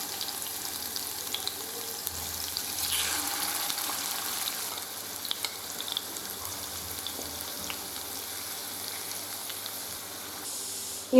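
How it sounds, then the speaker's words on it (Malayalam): Eggs fry gently in oil in a pan over low heat, a soft, even hiss and faint crackle held at a low level with scattered small pops, close but quiet, ending in a brief louder knock. "അതിൻ്റെ അകത്തേക്ക് കുറച്ച് ഓയിൽ ഒഴിച്ചിട്ട് നന്നായിട്ട് ഫ്രൈ ചെയ്തെടുക്കാം."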